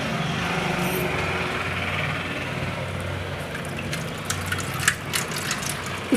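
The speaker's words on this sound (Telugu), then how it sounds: "ఇలా బాగా పిండేసుకుని రసాన్ని వేరు చేస్తానే" Soaked tamarind is squeezed by hand in a bowl of water to draw out juice for tomato rasam: steady wet sloshing close by, with a cluster of squelching splashes toward the end.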